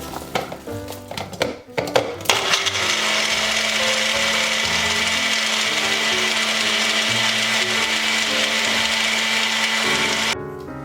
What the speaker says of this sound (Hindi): अब हम इसको ग्राइंड करेंगे, जस्ट मिक्स ही करना है।